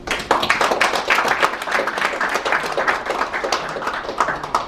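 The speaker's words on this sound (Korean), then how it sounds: "동포 언론인들에게 격려의 박수를 보내주십시오." An audience at a gathering of overseas Korean journalists gives encouraging applause, with dense, steady clapping from many hands that holds at an even level throughout.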